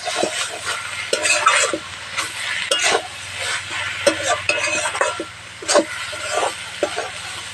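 Arum stalk and shrimp curry with mustard paste and mustard oil sizzles steadily in a pan while a spoon stirs and scrapes through it in irregular strokes, close up with no voices.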